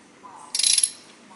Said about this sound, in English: That's a quality socket wrench there.